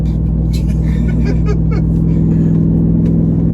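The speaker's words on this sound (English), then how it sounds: "It is weird though, because you hear the exhaust" A Jeep Wrangler Rubicon 392 exhaust drones steadily while driving, heard from inside the cabin as a loud, low, constant rumble with brief faint voice-like sounds above it.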